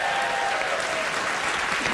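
Studio audience clapping in a steady, even wash of applause, loud and continuous throughout with no talk over it.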